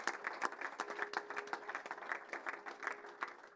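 Audience applause at a football awards ceremony in Alsace, a steady patter of many hands clapping at moderate volume for a few seconds with no talk over it.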